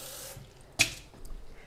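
Tap water runs briefly into a rice pot in a home kitchen, a soft broadband splash with a sharper burst near the middle, then fading to faint drips and clatter.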